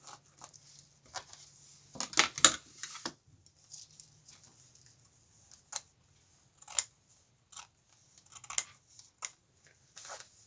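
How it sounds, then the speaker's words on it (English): Scissors cutting excess quilting fabric, a series of faint crisp snips spaced irregularly, with a cluster of louder cuts early on and isolated snips after, close and quiet. "Cut the excess off."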